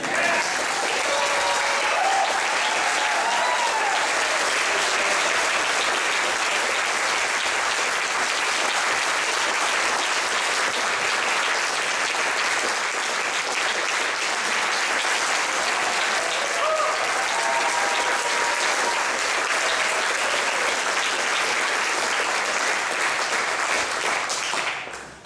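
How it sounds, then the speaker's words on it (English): A crowd at a ragtime festival awards ceremony gives award recipients a long, loud, dense round of applause that holds steady for the whole stretch before cutting off at the end. "One more round of applause for Fred Hoeptner, Mike&Penny Schwarz"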